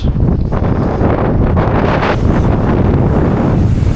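Strong wind buffeting the microphone on a fishing boat at sea, a loud, constant roaring rumble that fills the whole stretch without letup.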